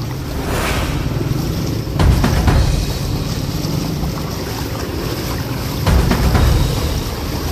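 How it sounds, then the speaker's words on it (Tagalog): Knee-deep flash flood water running through a street in Sucat, Parañaque, during heavy rain, heard as a steady, loud rushing wash with low churning and wind buffeting the microphone, swelling in two brief surges. "Yan o, baha hanggang tuhod."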